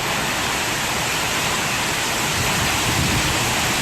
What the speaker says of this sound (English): take a look at those heavy rains and the wicked winds, almost zero visibility there